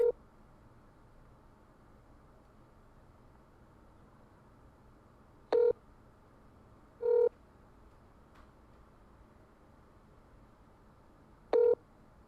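Telephone keypad dialing tones placing a call to a chicken restaurant: four short, clear beeps spaced a few seconds apart, each alone over a faint steady background hiss.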